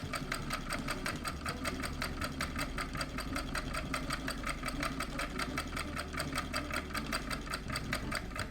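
A Raymond treadle sewing machine runs steadily, its rapid rhythmic clatter of stitching even and close with no voices.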